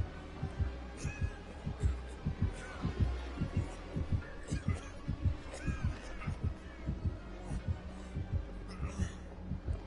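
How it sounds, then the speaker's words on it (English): A heartbeat in the video game Dead by Daylight pulses as a steady, deep, regular double thump, repeating continuously at a moderate pace under a low hum, with faint crow caws far off. "See, the heartbeat is still here."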